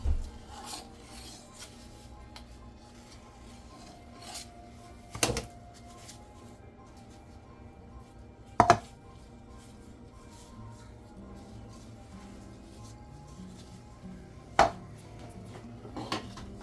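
A knife scraping and cutting through puff pastry for a meat pie on a board, faint rasping strokes with a few sharper taps and clicks spread out over a quiet background.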